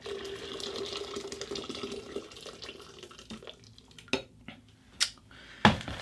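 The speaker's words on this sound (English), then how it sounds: "64 ounces of water into my jug here" About 64 ounces of water pours steadily into a jug for making mead in a soft, continuous rush, then stops, leaving a few sharp clinks of a container being set down.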